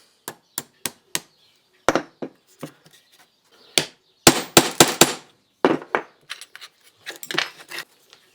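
Sharp metal taps from a small hammer striking a pin into a handmade folding knife, heard close as isolated single hits, then a quick burst of rapid blows and more scattered taps.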